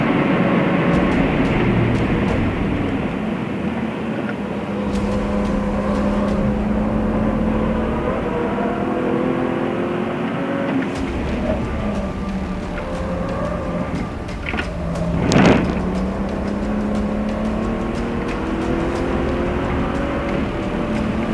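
A BMW 1M lapping a race track with traction control off, a sustained engine drone rising and falling through gear changes, with a brief sharp burst partway through, steady and fairly loud, no talk.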